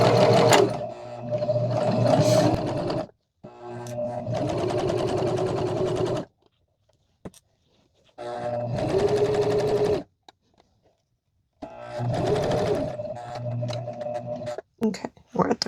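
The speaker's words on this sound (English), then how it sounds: "And then we're going to backstitch." A sewing machine runs in three close bursts of rapid rhythmic stitching, broken by short pauses, as it sews and backstitches fabric for a quilt project.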